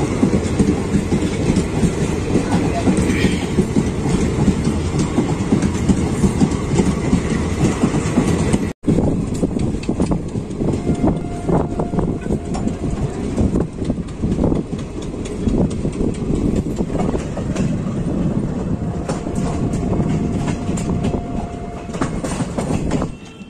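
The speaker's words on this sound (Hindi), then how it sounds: "अपनी ये ट्रेन आ चुकी है कुछ इस प्रकार से" A passenger train pulls into Bassi station near Jaipur, its wheels rumbling and clattering loudly and continuously over the rails up close, with occasional squeals and clanks, and no talk.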